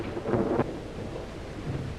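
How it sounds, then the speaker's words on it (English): Thunder rolls under steady rain in a stormy 1932 horror film scene, a brief louder rumble early on, then softer continuous rain, no speech. "Storm's just as bad as ever, isn't it?"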